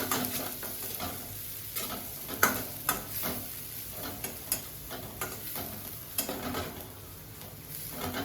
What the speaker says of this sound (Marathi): ह्याच्यात घालते मी थोडं आलं लसूण पेस्ट। छान परतून घ्यायचं मंद आचेवरती।